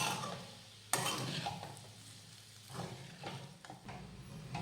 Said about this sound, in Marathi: हे सगळं व्यवस्थित मिक्स करून घेऊयात।